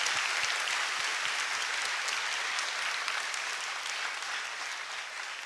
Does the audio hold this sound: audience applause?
yes